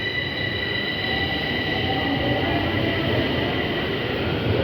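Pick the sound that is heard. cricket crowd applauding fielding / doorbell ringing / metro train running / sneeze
metro train running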